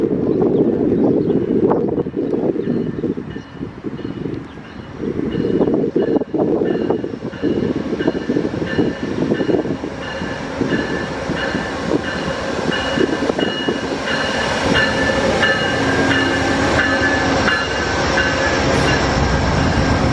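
Amtrak 63, the westbound Maple Leaf passenger train bound for Toronto, passes close by with a loud, continuous rumble of wheels and cars over the rails, rising in brightness and squeal toward the end.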